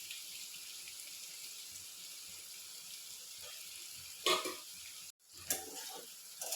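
Water from boiled rice is poured off and drained in a home kitchen, making a steady hiss that swells into a short louder splash near the end, then a brief pause before the pouring resumes.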